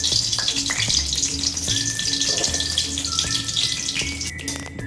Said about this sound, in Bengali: এবার শুকনো লঙ্কাগুলি দিয়ে দেবো